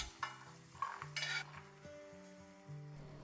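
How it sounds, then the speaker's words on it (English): Besan roasting in ghee and being stirred with a spoon, with a few sharp scrapes and clinks against the pan over a soft, steady sizzle, close and alone. "While the besan is roasting, I am also roasting cashews and almonds separately in a little ghee."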